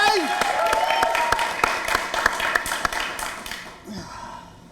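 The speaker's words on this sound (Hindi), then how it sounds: "जोरदार तालियां" Studio audience claps loudly for Bollywood actor Emraan Hashmi at the start of an interview show, steady dense clapping with sharp individual claps standing out, fading out near the end as a voice begins.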